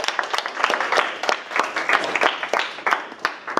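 An audience applauds in a short burst of dense, irregular claps, fairly close and lively, with a faint voice now and then underneath.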